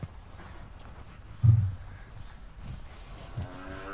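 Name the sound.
cattle mooing on a farm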